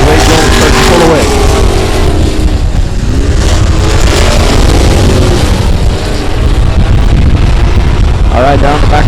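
Race cars roar around an oval at South Texas Speedway, a loud continuous engine drone with wind buffeting and shifting pitch as cars pass, while an announcer calls the race over it.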